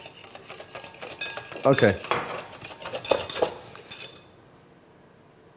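Mayonnaise and olive oil are mixed in a mixing bowl, a utensil clinking and scraping against the bowl in quick rhythmic bursts before stopping, with a brief word spoken.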